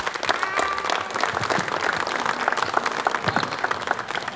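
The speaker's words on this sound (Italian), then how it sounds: "io aspetto sempre che finisca l'applauso, perché è giusto che l'applauso sia per chi parla" Audience applause at a book presentation fills the room, a dense, continuous clapping from a crowd that stays steady throughout, with faint voices mixed in.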